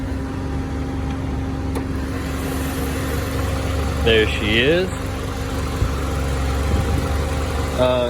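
A 2002 Toyota Camry's replacement used engine idles with a steady low rumble throughout, while a person speaks briefly over it.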